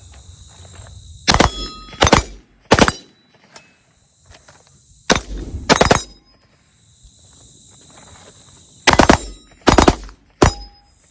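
Rifle fitted with a forced reset selector firing MagTech 5.56 ball ammunition outdoors: three sharp bursts of two or three rapid loud shots each, separated by pauses, with insects buzzing faintly in the background.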